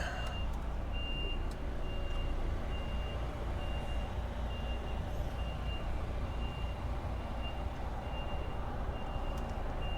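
A truck's reversing alarm beeps at a steady regular interval as it backs up, set over a continuous low engine rumble on a road, fairly distant and moderately quiet.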